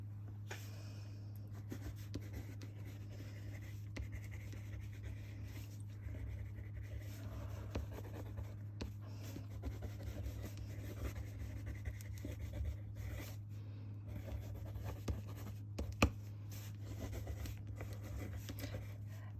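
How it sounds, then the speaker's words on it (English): A China marker (grease pencil) drags in steady strokes across paper and over tape, a soft continuous scratchy rubbing at close range over a constant low hum. "I decided to do it with this China marker pencil thing"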